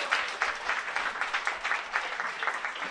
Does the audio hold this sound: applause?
yes